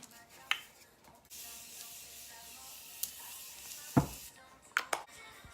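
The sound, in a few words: Morphe Continuous Setting Spray being sprayed on face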